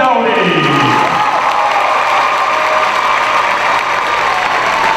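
An audience at a 2016 general session gives a round of applause for honored educators: loud, dense, sustained clapping with some cheering, filling the whole stretch without a break.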